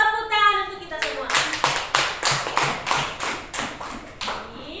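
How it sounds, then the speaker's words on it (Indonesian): A classroom group claps together in an even rhythm, about nine sharp, close claps in a row, following a brief spoken voice during an Indonesian school lesson. "Tepuk tangan untuk kita semua"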